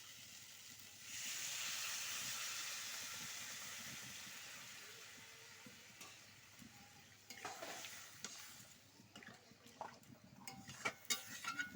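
Water poured into a pan of simmering Bengali fish curry gives a loud hissing rush that slowly fades, followed by quieter bubbling, ticks and scattered clinks near the pan.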